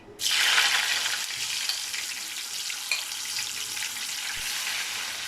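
Beef pieces dropped into hot oil burst into a sudden loud sizzle. The frying then holds as a steady, dense crackling hiss up close.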